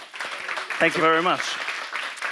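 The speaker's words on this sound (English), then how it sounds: "another huge, huge round of applause for Hila" Audience applause for a volunteer on stage at a TEDx talk about hypnosis, a steady moderate clapping from the hall while someone speaks briefly over it.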